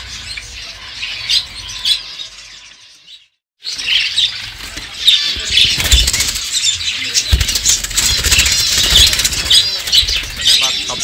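Caged birds in a bird shop flap and squawk loudly and close by, a dense burst of chirps and wing beats that drops out for a moment before resuming even busier.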